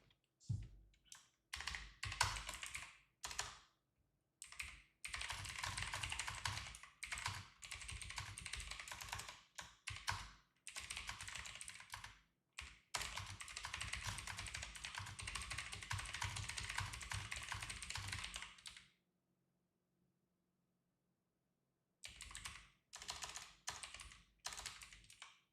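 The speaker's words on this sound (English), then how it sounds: "let me type this up real quick" Fast bursts of typing on a computer keyboard, loud and close, in irregular runs with short pauses and a longer silent gap near the end, during a live futures day-trading session.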